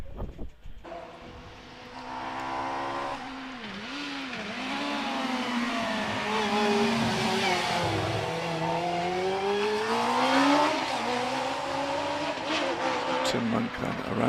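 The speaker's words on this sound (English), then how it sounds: "the Fisher Fury of Tim Monk has just gone off the line, car 119, 1300cc Fisher Fury" A 1300cc Fisher Fury race car launches from the line at a club hill climb, its engine revving hard and rising in pitch through the gears, fairly distant under an announcer's voice.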